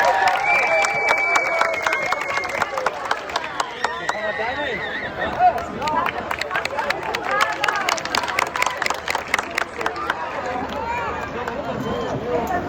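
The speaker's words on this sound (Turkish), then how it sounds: "Kocaman alkışlarla sahneye alıyoruz kendilerini." Festival crowd applauding as performers are welcomed onstage, crisp rhythmic clapping that grows more pronounced, with crowd chatter and voices mixed through it.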